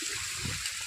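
Stream water rushing down the rocky Pavagadh hills, a steady close wash of flowing water with no voices, brief and unbroken.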